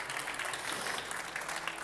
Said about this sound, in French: que l'on peut applaudir